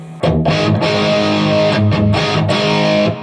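An electric guitar played through a pedal into a Marshall DSL100H head with the drive turned up rings out in thick, sustained distorted chords, loud and close, struck a few times with no talking.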